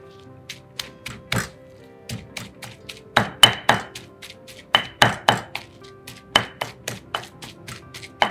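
Repeated pounding of Thai shrimp paste chili dip (nam prik kapi) with grilled shrimp paste in a mortar and pestle, sharp thuds in irregular clusters of blows, close and clear with no talking.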